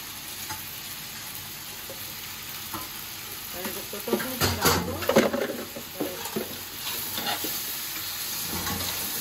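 A spoon stirs mango pickle frying in a pan with mustard, turmeric and chili while sugar goes in. A steady sizzle builds into louder scraping bursts midway, then settles into soft frying.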